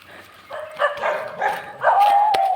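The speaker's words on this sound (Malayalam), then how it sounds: "ആ വീട്ടിൽ കുറേ പട്ടികളുണ്ട് കേട്ടോ." Dogs kept at a house beside a forest path give a short burst of yelping, whining barks, fairly loud and close, over about two seconds.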